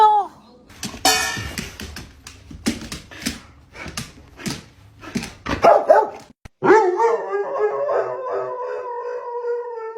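A dog barks and howls loudly in close bursts, with sharp repeated barks followed by a long drawn-out howl.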